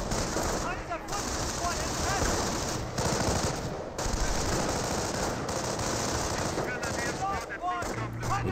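Rifleman squads trade dense gunfire with Grenadiers in the Company of Heroes real-time strategy game, a nonstop wall of rattling machine-gun bursts and rifle shots that keeps up loudly for the whole stretch.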